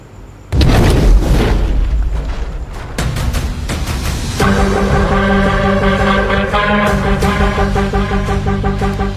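Explosion blast from the climax of the Indian action film Pushpa 2: a sudden loud boom bursts in and rolls on, followed by further thuds and a dense, sustained rumble under dramatic music.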